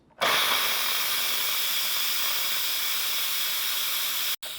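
A pressure cooker holding hot and spicy Italian beef lets off steam in a quick release, a loud, steady hiss that bursts on abruptly and runs unbroken for about four seconds before a brief cutoff.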